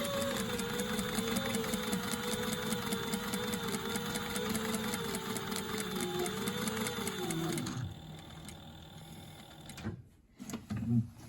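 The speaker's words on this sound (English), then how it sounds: "we're gonna stitch around the edge of our whole pattern so that it holds the fabric to the foam" A sewing machine runs steadily, stitching upholstery fabric to foam for a tuck-and-roll bucket seat, with a close, continuous motor whir and needle chatter that stops near the end, leaving a few handling clunks.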